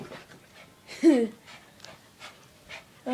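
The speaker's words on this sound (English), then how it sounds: "that's our dog Joy." Pet dog breathing in short soft pants close by, interspersed with a brief whimpering whine and a faint vocal squeak near the end, with light voices around.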